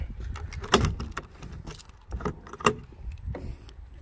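A tailgate lock on a 2019 Honda Ridgeline with a camper shell is worked open: close metallic clicks and jangling keys come in quick, irregular bursts at low volume.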